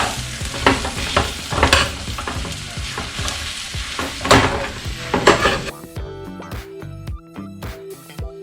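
Breakfast burrito filling with parsley stirred and scraped in a sizzling frying pan, a steady fry under repeated utensil scrapes and clinks, ending in a few sharper clattering taps.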